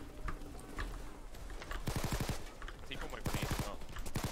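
Rapid automatic gunfire in the video game Payday 2, loud bursts of repeated shots in two main volleys amid dense battle noise, with a voice speaking faintly underneath.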